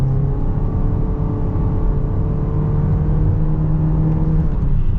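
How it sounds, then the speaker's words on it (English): A 2022 Honda HR-V AWD with a CVT, in S mode, accelerates at full throttle: a steady, loud engine drone with a rising whir, heard from inside the cabin throughout without talk. "Oh, we're gonna get our full-blown acceleration here at the HRV."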